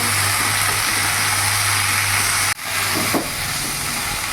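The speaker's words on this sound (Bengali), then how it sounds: "আমার এখনো ভাজা হয়নি, আমি আরও কিছুক্ষণ ভাজবো।" Mixed vegetables frying in a pan make a constant close sizzle under a low steady hum, briefly interrupted by a sharp clunk, then the hiss resumes, with no voices.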